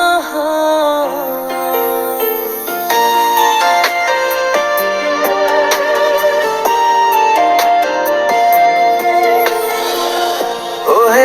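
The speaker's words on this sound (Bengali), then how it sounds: "এখন আমি যদি আপনাদের একটু প্লে করে শোনাই তাহলে আপনারা বুঝতে পারবেন কিরকম কোয়ালিটির রিংটোন সে তৈরি করে দিয়েছে।" An AI-generated ringtone song made with Suno AI plays loud and clear as a melodic musical track with layered tones and steady rhythmic accents, with no talking over it.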